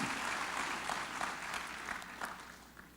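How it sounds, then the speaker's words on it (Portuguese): A church congregation applauds during a Sunday evening family service, a dense, steady wash of many hands clapping at moderate level with a few sharper claps standing out, no talking over it. "Dê uma salva de palmas ao Evangelho de Jesus."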